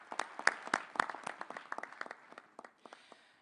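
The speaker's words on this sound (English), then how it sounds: "Let's give ourselves a round of applause for the wonderful day we have spent." A small, sparse round of applause at a G20 leaders' summit in South Africa: scattered individual claps, fairly faint and thinning out over a few seconds.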